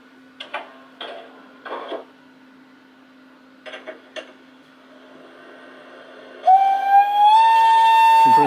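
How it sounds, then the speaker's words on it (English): An O gauge model locomotive on a Gaugemaster Infinity DCC system with Lenz gives a few faint clicks and ticks, then sounds a loud, sustained compressed air whistle that holds a steady tone before cutting off. "Compressed air whistle."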